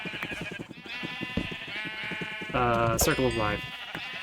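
Sheep in the Minecraft video game bleat repeatedly, with a loud, wavering bleat near the end over steady game background sounds, while people talk over the clip.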